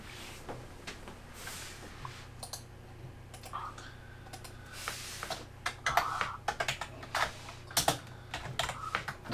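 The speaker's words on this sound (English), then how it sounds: "Let's do a little bit of typing as I set another month up." Fingers type on a computer keyboard in quick irregular bursts of close, crisp key clicks, growing busier toward the end, over a low steady hum.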